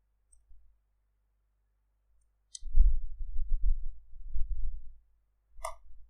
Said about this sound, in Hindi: सिलेक्शन के साथ हम आर्ट प्रेस करेंगे और बैकस्पेस करेंगे